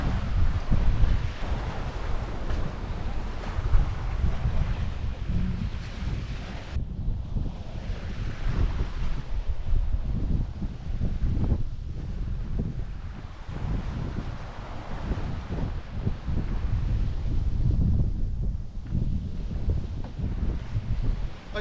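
Strong wind roars across the microphone with surging sea waves while sailing off Norway, a loud, continuous buffeting rush with swelling wash and no talk.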